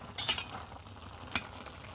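A spoon stirs gourd and spinach curry in a pan, giving soft scraping and a faint sizzle, with two brief sharper clinks of utensil against metal, quiet and close, without voices.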